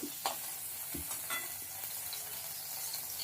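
Pieces of pointed gourd (potol) fry in a little oil in a kadai, a soft, continuous sizzle broken by a few light clinks and scrapes of stirring.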